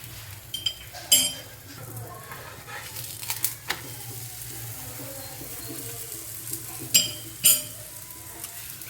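Aloo paratha fries in oil on a pan with a steady, close sizzle, punctuated by a few sharp clinks and scrapes of a utensil against the pan.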